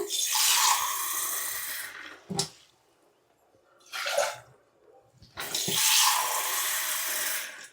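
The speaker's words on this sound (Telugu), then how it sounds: "నేను త్రీ గ్లాసెస్ వాటర్ పోస్తాను" Water pours in three separate gushes into a cooking pot, the first and last long and splashing, with a short splash between, close and fairly loud, no voices.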